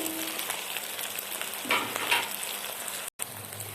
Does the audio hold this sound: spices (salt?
yes